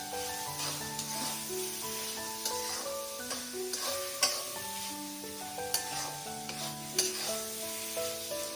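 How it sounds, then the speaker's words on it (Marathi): Spoon stirs a grated fresh coconut mixture with ghee in a pan, giving a soft, steady scraping and light sizzle with a few sharper knocks, mostly under continuous tonal background music. "व्यवस्थित मिक्स करून घेऊ आपण"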